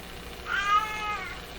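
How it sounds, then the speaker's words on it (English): A house cat lets out a single complaining meow, moderately loud and close, rising and then trailing off in a quiet room. "This is my other cat now. It's complaining."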